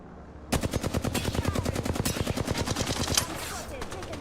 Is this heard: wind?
no